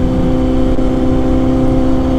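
A Kawasaki Z800 motorcycle being ridden, its engine a loud, steady drone with a constant hum and no voices.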